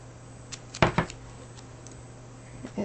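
Adhesive tape torn and pressed onto paper while prepping a werewolf linocut print at home: two quick, close rips in a row against an otherwise quiet room, with faint small handling noises after.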